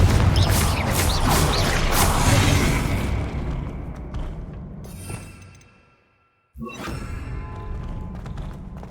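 A heavy Confringo blasting-spell explosion booms and crashes in the fantasy game Hogwarts Legacy, loud and dense at first, then fading into a brief silence before another rough blast bursts in.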